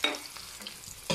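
Onion frying in oil for a Filipino pork and shrimp paste dish with eggplant, a soft steady sizzle with light stirring scrapes and a louder scrape at the very end.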